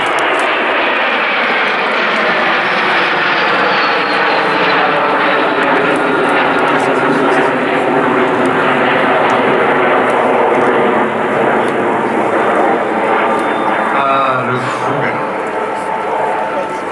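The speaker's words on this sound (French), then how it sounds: "Voici donc la patrouille Grandchamp et ses 5 fougas pour ouvrir Melun 2019." Five Fouga Magister jets of an aerobatic patrol at an air show roar overhead in a loud, continuous engine drone, while a commentator talks over the noise.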